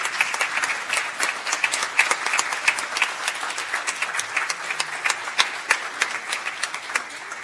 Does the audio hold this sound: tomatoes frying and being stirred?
no